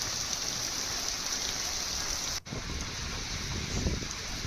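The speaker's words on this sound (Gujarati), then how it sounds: "ગુજરાતના અનેક વિસ્તારોમાં જ્યારે વરસાદ પડી રહ્યો છે" Steady rain falling in Amreli, Gujarat, a dense continuous hiss of drops on surfaces heard close, with a brief cut midway before the downpour resumes.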